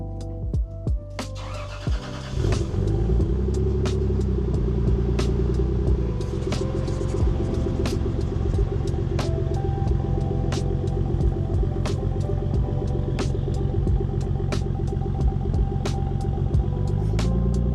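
Toyota Supra starting up and pulling out of a garage, the engine catching after a brief crank then settling into a steady low rumble with small rev changes and occasional clicks, no talking.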